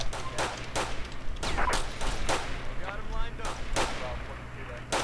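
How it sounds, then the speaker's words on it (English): Repeated gunfire in a GTA police patrol mod set in Florida: a rapid series of sharp shots, some in quick bursts, crackles over a steady engine-like hum. "Officer being shot at."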